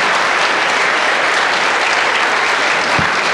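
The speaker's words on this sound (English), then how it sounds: "So I just want to give a big round of applause to Susan" Loud, dense applause from an audience at a San Francisco event marking the 20th anniversary of the Americans with Disabilities Act, a steady wash of many hands clapping close by with no let-up.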